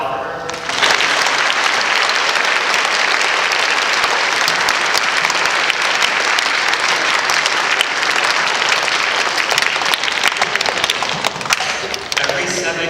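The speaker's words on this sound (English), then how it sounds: "please let's applaud for her" Steady, loud applause from a school audience at a recognition day assembly, sustained and even for about twelve seconds before tapering slightly at the end.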